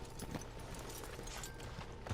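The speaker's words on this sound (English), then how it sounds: "That is a huge horse, though, for trying to mount." Horse hooves clip-clop steadily in the Red Dead Redemption 2 video game, faint repeated thuds under a low rumbling ambient bed, with no talk.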